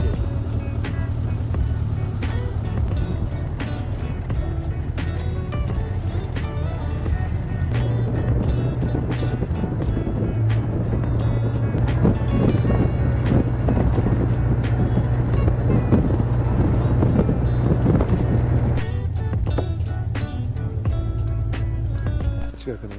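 Riding a Honda Cross Cub motorcycle on tour makes a continuous engine hum mixed with heavy wind rush for the whole stretch, with voices speaking now and then over the noise.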